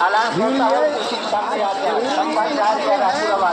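A dense crowd of pilgrims fills a river ghat at the Maha Kumbh fair, a constant loud babble of many overlapping voices close around, with no single sound standing out.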